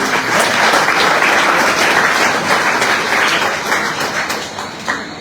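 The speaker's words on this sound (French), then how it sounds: "sous vos applaudissements, mesdames, messieurs" An audience applauds steadily, a dense wash of clapping that stays loud throughout and fades slightly at the end.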